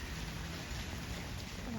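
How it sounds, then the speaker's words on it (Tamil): Steady broadband hiss of rain falling outdoors at a home in Sri Lanka, continuous and fairly quiet with no distinct drops standing out. "மழை பெய்யுது"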